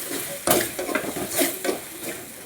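Ginger garlic paste sautés in a pan for homestyle chicken kuzhambu, with a steady close sizzle and several scraping stirs of a spoon across the pan.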